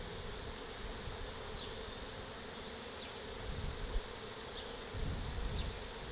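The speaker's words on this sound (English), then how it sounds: "there's that lovely buzzing sound that is a healthy hive" Honeybees in a healthy hive keep up a constant, even buzz, with a few individual bees zipping close past now and then.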